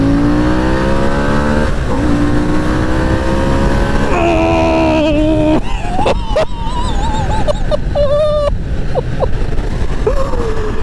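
A loud 2021 Harley-Davidson Sportster S engine revs hard and climbs steadily through the gears, whining higher with each shift as the motorcycle accelerates continuously onto a motorway.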